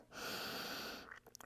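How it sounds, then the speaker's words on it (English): Heavy, sustained breathing during a yoga cool-down in child's pose, a long loud breathy exhale lasting about a second, followed by a few softer breath sounds. "I'm breathing hard."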